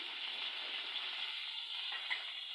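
Tomatoes and green chillies fry in a pan, giving a steady hissing sizzle that holds evenly throughout, fairly faint and close, with one small click near the end and no voices.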